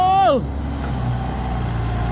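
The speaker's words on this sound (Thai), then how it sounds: "วันนี้มาถึงได้เจอรถไถด้วยครับผม" A Kubota M108S tractor, working on clay soil, gives a brief whine that drops quickly in pitch, then settles into a steady, close engine rumble.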